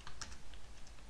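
Soft, quick keystrokes on a computer keyboard, a brief run of light clicks heard close and fairly quiet against a low background hum.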